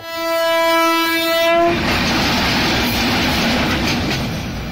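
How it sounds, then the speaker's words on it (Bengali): A train horn blares loud and steady at an ungated rail crossing in Barhatta, then the train rushes past with a broad, continuous rumble and clatter of wagons close by. "কোন সময় ট্রেন এসে পড়ে"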